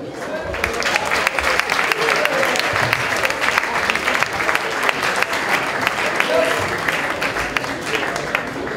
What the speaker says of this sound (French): je vous demande, s'il vous plaît, d'applaudir Emmanuel Kujaski, Bruno Laforesterie, Rachel Kahn et William Edor